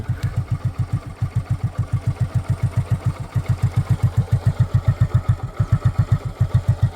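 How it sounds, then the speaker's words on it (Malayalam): A used motorcycle engine idles close by after a self-start, with a fast, even, thumping beat that runs steadily throughout and no other sound over it. "ഇനി സെൽഫ് അടിച്ചു നോക്കാം സിമ്പിൾ ടച്ച് ഇതിന് സൗണ്ട് കേട്ടു"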